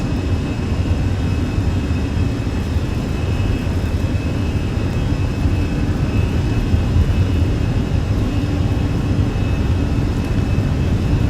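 Airbus A320 jet engines spool at takeoff thrust in Flight Simulator 2020, a steady loud broadband roar with a constant high whine, unbroken and without voices.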